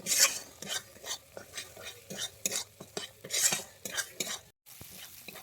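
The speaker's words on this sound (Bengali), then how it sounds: "আমি এখানে দইটা দিয়ে আরও আমি ভালোভাবে কষিয়ে নেব দইটা থেকে যতক্ষণ না তেল বেরোয় আমি ততক্ষণ দইটাকে এইভাবে কষতে থাকবো" Yogurt being stirred and fried in a pan for vegetarian paneer butter masala: a rapid series of scraping stirs, spoon clinks against the pan and soft sizzling, close and busy, with no voices.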